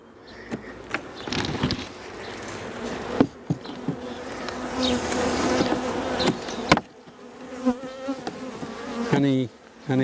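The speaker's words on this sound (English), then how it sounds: "these bees are starting to get a wee bit defensive" Honey bees buzz around an opened hive during queen rearing, growing defensive without smoke; a dense, fluctuating drone fills the air near the microphone, with individual bees zipping close past it and brief knocks of handling.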